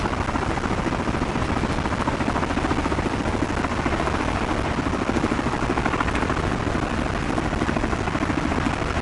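A Hiller UH-12B helicopter engine in Microsoft Flight Simulator 2024 runs as a loud, steady, dense rotor chop that continues evenly throughout with no voices.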